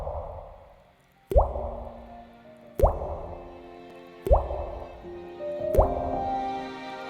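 A drippy, watery song built around four evenly spaced water-drop plops, each landing about a second and a half apart over sustained tonal instruments, clear and close.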